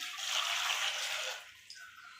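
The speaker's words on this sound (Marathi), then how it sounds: "तर त्या हिशोबानंच आपल्याला पाणी पण टाकायचं, शिजवून घ्यायचं आपल्याला" Water poured from a jug into a large cooking pot, a loud rushing gush that tapers to a trickle after about a second and a half.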